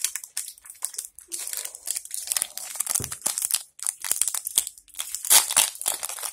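Close, crinkly tearing and rustling of a foil Pokémon trading card pack being torn open by hand, with continuous crackles and a few sharper rips.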